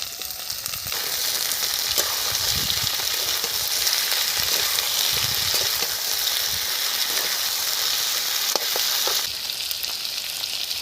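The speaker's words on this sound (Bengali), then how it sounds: "পেঁয়াজ ভাজা হয়ে গেছে, আলু দিয়ে দিচ্ছি।" Potatoes tip into hot oil in a wok over fried onion, dry red chilli and nigella seeds, raising a loud, steady, close sizzle that runs without a break, with occasional stirring clicks.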